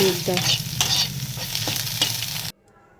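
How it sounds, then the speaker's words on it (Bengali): An egg fries with a little salt in a pan, giving a steady, close sizzle broken by scraping stirs. The sizzle stops abruptly near the end, leaving near silence. "দিয়ে একটু ভাজা ভাজা করে দেখো ডিমটা ভাজা ভাজা হয়ে গেছে।"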